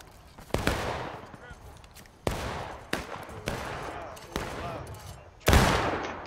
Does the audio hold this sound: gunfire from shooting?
yes